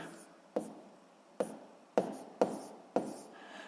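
A number being written by hand during a physics lesson, heard as five short, sharp strokes or taps spaced irregularly over a few seconds, each fading quickly against a quiet room.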